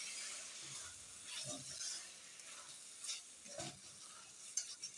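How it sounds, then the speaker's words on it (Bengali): Mutton being sautéed and stirred in a pan with turmeric and coriander powder for a pointed gourd curry: a soft, steady sizzle with faint scraping stirs, quiet and close, no voices. "আমি এবার মাটনটা কষে নিচ্ছি।"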